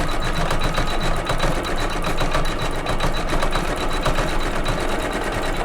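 Embroidery machine stitching a blue section of a flag design on a Kimberbell pillow, a steady fast mechanical whir and rapid needle chatter running continuously and loud throughout, with no talking.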